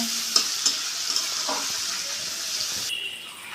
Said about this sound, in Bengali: এবার মশলাটা একটু সুন্দর করে কষিয়ে নেব